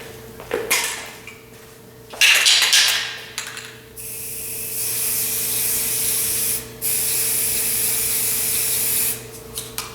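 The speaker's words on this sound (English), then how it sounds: "So I'm going to go spray paint this" Spray paint can spraying in several bursts: short hisses at first, then long steady sprays of several seconds each, close and loud.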